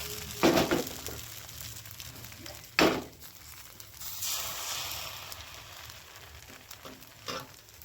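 Rice-milk batter for chakli pitha hits a hot pan over a gas flame, two loud hissing bursts as ladlefuls land, then a softer steady sizzle and crackle close by.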